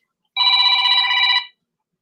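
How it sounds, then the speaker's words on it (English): A phone ringtone sounds as a single steady electronic ring lasting about a second, loud and clear against silence, with no talking over it. "now your phone's ringing."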